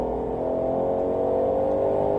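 A Ford Mustang GT500 engine drones steadily and loudly as the car accelerates on a race circuit, a continuous low roar with a rising whir, no voices.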